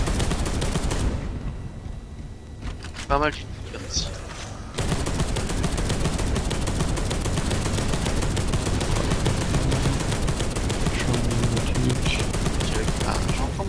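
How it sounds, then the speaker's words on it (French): Redeemer cannon in Space Hulk Deathwing blasting rapid, heavy bursts of fire, loud and sustained, with a brief lull where a voice speaks before the barrage resumes and continues nonstop. "Le Rédempteur, c'est un polter, c'est un canon aussi."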